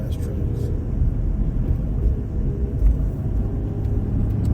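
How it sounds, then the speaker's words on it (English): Big trucks on the road ahead of a moving car produce a continuous low engine rumble and road noise, moderately loud, with someone talking over it. "I don't know how I always get behind these big ass trucks."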